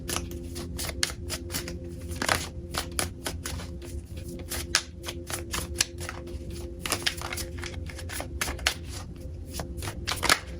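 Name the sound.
shuffling tarot cards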